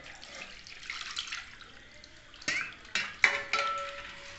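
One kilogram of goat mutton is washed under a running tap in a home kitchen: a steady water stream with splashing, and a few louder sloshes and knocks near the end.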